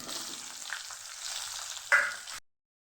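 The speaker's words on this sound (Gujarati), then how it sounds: "હવે આપણે તેલ આવી ગયું છે એમાં આપણે ડુંગળી ઉમેરી દઈશું" Onion sizzling in hot oil with a pinch of asafoetida, a loud close crackle with a stirring scrape near the end before it cuts off abruptly, no voices.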